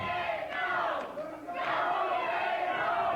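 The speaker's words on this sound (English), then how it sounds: "Go, Dave, go is what the crowd is saying." A wrestling studio crowd chants in unison in two loud rhythmic swells, a broad roar of many voices rising, dipping briefly, then holding steady.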